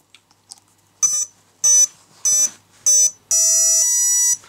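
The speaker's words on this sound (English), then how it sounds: "I'm not sure if you were able to hear the init sounds of the ESC" An RC electronic speed controller, powered through a WM150 150A watt meter, gives its startup tones: a few faint clicks, then four short, loud, high beeps and a longer final tone, close and alone.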